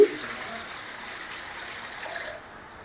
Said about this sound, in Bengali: কচুর শাক রান্না করার জন্য কড়াইতে পরিমাণ মতো পানি দিয়ে দিচ্ছি